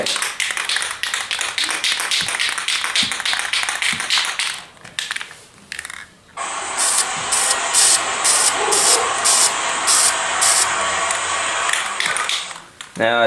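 A spray paint can hisses in bursts, first in quick rapid pulses, then a longer loud continuous spray with a rhythmic rattling overlay, close by, while painting an M1A rifle stock.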